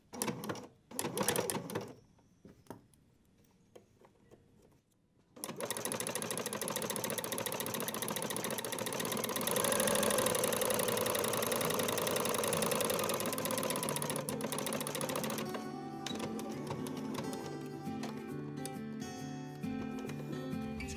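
A sewing machine with a twin needle and flower stitch foot stitches a flower pattern, running in a steady, loud mechanical whir for about fifteen seconds after a few short bursts, with no talking.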